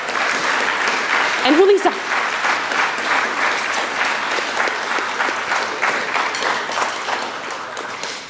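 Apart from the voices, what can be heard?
audience applause at a high school band concert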